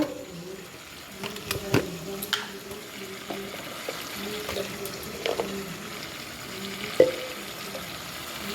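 Lentils being sautéed with salt, turmeric and cumin powder in a pan, giving a soft, steady sizzle with scattered stirring scrapes and a few louder clinks, moderately close.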